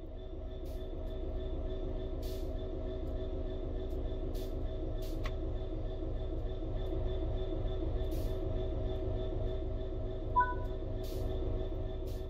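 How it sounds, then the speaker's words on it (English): A video-game train from Train Sim World 3 rumbles steadily along with a constant low engine drone and faint clicks, continuous and close. "We want to move the train forwards"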